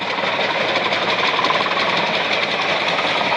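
A century-old steam engine runs at a steam fair in Boconnoc, giving off a steady, dense mechanical chuffing and clatter that stays loud and even throughout with no talk.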